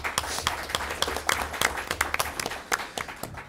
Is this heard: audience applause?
yes